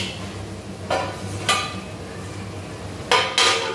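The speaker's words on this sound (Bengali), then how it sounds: "এখন আমি এটাকে ঢাকা দিয়ে দেব" Lid set onto a pot of fish curry with potatoes: a few sharp metallic clanks and rattles spaced over a few seconds, close and clear against a quiet kitchen background.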